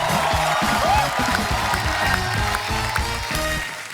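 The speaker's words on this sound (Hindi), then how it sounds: "जोरदार तालियां।" Studio audience applause and cheering on a Hindi TV comedy talk show, a crowd clapping and cheering as guests are welcomed, with music playing underneath throughout.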